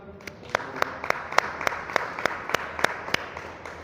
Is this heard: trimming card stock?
no